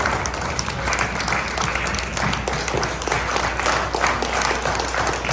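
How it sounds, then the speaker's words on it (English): A crowd applauds at a National Unity Platform diaspora leadership event, honouring a woman. Dense, steady clapping from many hands fills the room without pause. "I hope we can have a round of applause, or just stand up and recognize her"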